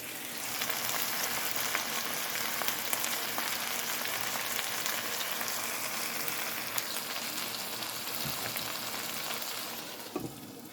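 Rice stir fry with green onions sizzling and crackling steadily in a hot pan, a continuous close frying hiss with occasional sharper pops, no voices.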